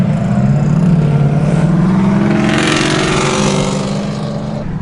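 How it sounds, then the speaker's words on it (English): A car fitted with a straight-pipe exhaust and cherry bomb muffler revs loudly nearby on a street, its deep raspy drone rising and holding for several seconds. "that is straight pipe with a cherry bomb"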